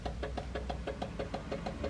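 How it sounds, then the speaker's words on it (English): Ford Capri Calypso, abandoned for 14 years, with its indicator relay clicking in an even, rapid rhythm of about five sharp clicks per second over a low steady hum. "I can hear a relay clicking."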